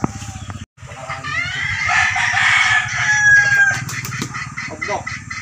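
A labuyo, a wild jungle fowl rooster in Agoncillo, Batangas, crows loudly and close by in one long drawn-out call over a steady low droning background.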